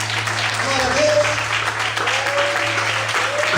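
Church congregation applauding during a sermon, a dense, steady wash of clapping from many people with voices calling out underneath and a low hum running throughout.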